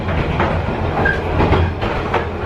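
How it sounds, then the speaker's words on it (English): Overnight train in Vietnam rolling along, heard from inside a carriage as a steady low rumble with rhythmic clickety-clack of wheels over rail joints, continuous and fairly loud throughout. "Then made it to the train station where we picked up the overnight train"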